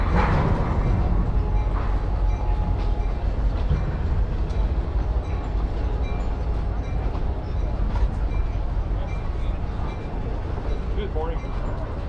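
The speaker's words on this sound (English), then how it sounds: "So there goes our train." Train rolling past an outdoor flea market in Lancaster, a loud continuous rumble and rattle of rail cars nearby, steady throughout with faint background activity.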